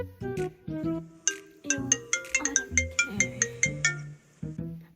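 A mobile phone rings with an incoming call in a home kitchen, its melodic ringtone playing a loud, bright run of repeating tones that rise and fall in a steady pattern, with no talking.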